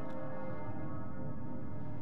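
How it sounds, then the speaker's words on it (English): A bell tolls in Persona 3 Reload, a low, sustained resonant ring at a faint level, heard with no speech over it. "It sounds like a bell, but where's it coming from?"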